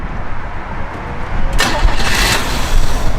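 A 1959 Chevrolet Corvette engine cranks briefly, then catches and fires into a loud, rough idle close by.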